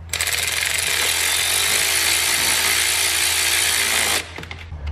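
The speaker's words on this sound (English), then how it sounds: "I'm currently just tightening them down until there's a little bit of resistance on the nut that holds the fuel rail down." Ratcheting tool tightening the fuel rail nuts during a Honda decapped injector install, a steady continuous mechanical clicking whir held close for about four seconds before stopping abruptly.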